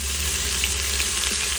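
Ginger garlic paste and a chili frying in a pan for rajma, a continuous bright crackling sizzle held steady and close throughout with no voices.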